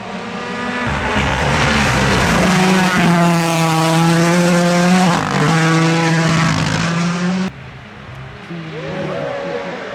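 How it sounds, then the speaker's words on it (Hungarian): A WRC rally car roars loudly past on a wet Monte-Carlo Rallye stage in ice and rain, its engine note climbing and then dropping away before a second, quieter car approaches. "mindjárt érkezik az első autó"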